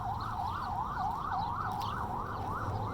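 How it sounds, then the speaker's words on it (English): A car alarm wails outdoors near a courthouse on a gloomy day, a steady rising and falling siren tone repeating about twice a second, loud and continuous over low street rumble. "Take in that beautiful sound of someone's car alarm going off."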